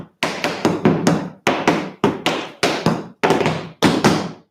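Tap shoes strike a hard floor in a tap dance class, a string of sharp, loud steps, stamps and heel taps in quick bursts separated by short pauses, close and alone.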